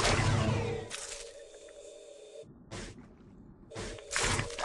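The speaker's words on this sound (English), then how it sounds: "It closes its gills to force out the water." An archerfish forces jets of water from its mouth by snapping its gills shut, giving close, hissing, splashy bursts that come in several separate spurts with quieter gaps between them.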